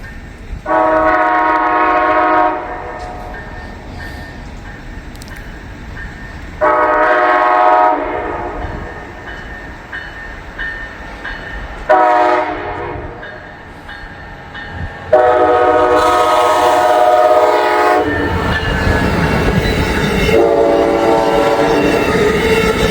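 Amtrak passenger train in snowy Appalachian country, its horn sounding in several long blasts separated by pauses, with the rumble and clatter of the cars building loudly as it passes close by.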